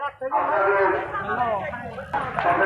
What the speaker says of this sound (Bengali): গরু কিন্তু হাটের মধ্যে এখনো যাচ্ছে আর কি